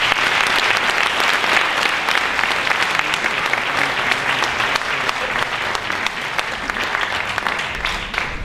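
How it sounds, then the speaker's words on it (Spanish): An audience at a commemorative tribute event applauds continuously, a dense, even clapping from a large crowd that carries on for several seconds before tapering slightly. "Un aplauso para ellos."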